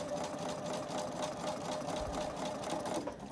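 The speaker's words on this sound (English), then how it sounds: "So I'm gonna sew for this third method right along here." A sewing machine stitches a quarter inch seam with a seam guide set ahead of the needle, running as a steady, close, continuous whir for the whole stretch with no talking.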